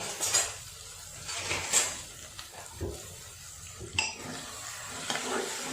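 A spoon scraping and stirring potatoes and flat beans in a pan with a soft sizzle underneath, irregular metallic clinks and scrapes at a steady close distance.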